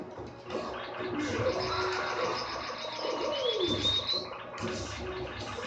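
Birds chirp and call close by in Super Smash Bros. Brawl, a high sweeping whistle-like tone rising over a busy, steady background of rustling noise.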